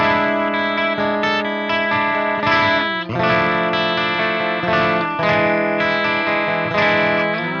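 An electric guitar played on its bridge pickup through a clean amp channel, bright chords and picked notes ringing loud and close in a steady rhythm, with no talking.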